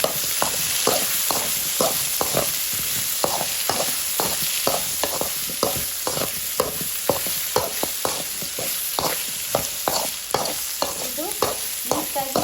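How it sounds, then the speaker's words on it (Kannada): Eggplant pieces sizzle in hot oil while a spoon scrapes and stirs the pan in a quick, regular rhythm of dozens of clicks over a steady frying hiss, close up with no voices. "ಬದನೆಕಾಯಿನ ಹಾಕಿ ಮಿಕ್ಸ್ ಮಾಡಿದ್ದೀನಿ"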